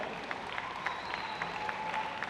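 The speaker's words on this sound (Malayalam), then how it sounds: "അപ്പോൾ നല്ലൊരു കയ്യടിയോടുകൂടി അദ്ദേഹത്തെ വെൽക്കം ചെയ്യാം കേട്ടോ" An audience at a carnival lucky draw applauds to welcome the Trivandrum regional secretary: a steady wash of moderately faint clapping throughout, with no voices over it.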